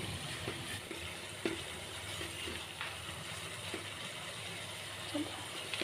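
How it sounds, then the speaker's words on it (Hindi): Hot water is poured into a pan of curry masala for chicken kofta curry, giving a soft, steady watery rush with faint sizzle and occasional light clinks under a constant kitchen background. "अब इस टाइम पर हम इसमें थोड़ा सा गर्म पानी ऐड कर रहे हैं।"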